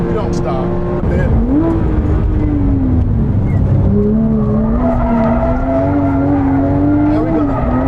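Porsche 911 GT3 (997) engine held at full throttle on track, a loud close in-car wail climbing steadily toward high revs with a brief shift dip, tyre noise underneath and a voice talking over it.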